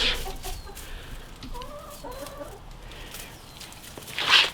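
Backyard chickens cluck softly nearby in short, bubbling bursts, with a few sharper squawks and rustling of straw in the background.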